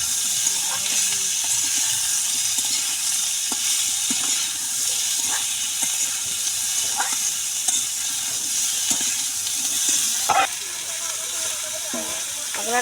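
Potatoes fry in a pan, giving a continuous soft hiss and sizzle with scattered light clicks and stirring knocks.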